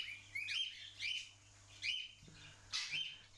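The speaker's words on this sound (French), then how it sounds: "C'est ton oiseau sur ton épaule là." A girl's pet bird perched on her shoulder gives repeated bright, quick chirps in short bursts, about four calls spaced roughly half a second apart, moderately close over a low steady hum.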